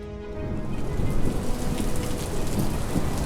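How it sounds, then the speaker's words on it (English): A heavy rain downpour roars as a dense, close hiss while low thunder rumbles underneath and the storm swells slightly over a few seconds, with no voices. "Suddenly, without warning, it started to rain. A heavy downpour."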